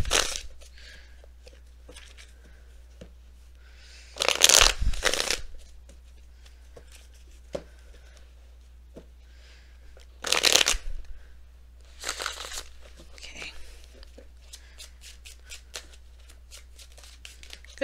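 Tarot cards are shuffled in several brisk bursts separated by quiet pauses, with softer riffling and handling sounds between them, close up.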